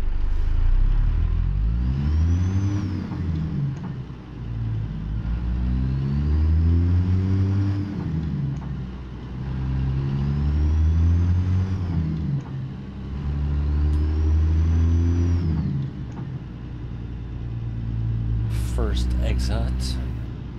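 Engines of trucks and cars in American Truck Simulator rev and shift through repeated gear changes in a steady rumbling cycle, close and loud, with someone talking over it.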